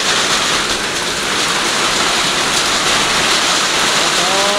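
Heavy rain pouring down during a windstorm in Kailali, Nepal, a loud unbroken hiss and roar of falling water drumming on surfaces nearby, steady from start to finish.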